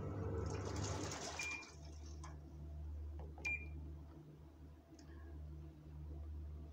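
A Haier washing machine runs its air dry quick program, giving a steady low mechanical hum with faint clicks and ticks over the top; no one speaks.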